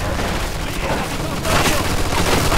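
Dense machine gun fire from the video game Mafia 2 roars continuously, loud and close, growing heavier partway through with no pause.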